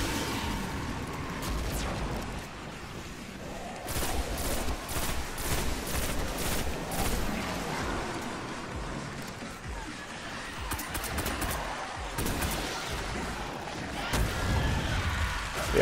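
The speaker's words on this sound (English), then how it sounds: "This is just a blue pulse rifle." Pulse rifle fire from the video game Destiny, with repeated short bursts of rapid shots and explosive impacts layered over continuous busy game noise, fairly loud and dense across the whole stretch, with a voice talking at times.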